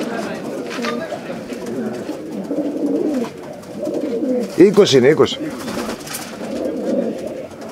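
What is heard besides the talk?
pigeons cooing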